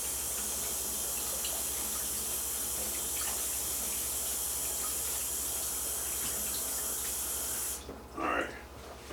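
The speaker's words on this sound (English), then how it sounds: "I'm going to wash my hands again" Tap water runs steadily into a kitchen sink during handwashing, a loud continuous hiss that holds for most of the time and then cuts off, followed by a brief splash.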